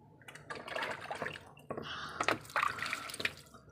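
Water is poured and splashed at close range while a rabbit is bathed after shampooing, coming as irregular bursts of splashing and dribbling with brief quiet gaps and a few sharper drips.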